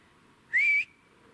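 A single short whistle with a slight rising pitch sounds once outdoors near a pond at a high-altitude campsite, clear against quiet background noise.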